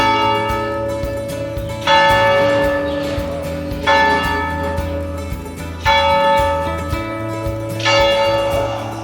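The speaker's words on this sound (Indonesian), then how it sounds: "dengerin loncengnya bunyi tepat jam 12" Church bells in the Tuscan hilltop town of Montalcino ring at noon, with steady repeated strikes every two seconds or so, each swelling and ringing on over a low continuous hum, loud and close with no talk.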